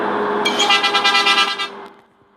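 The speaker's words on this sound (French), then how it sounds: "C'est pas un klaxon de bus, sérieux. Ça c'est un klaxon de scooter." A thin, scooter-like bus horn from the Bus Simulator Ultimate game blares in one sustained honk of about a second, with a slightly wavering pulse, over a low engine hum that fades out afterward.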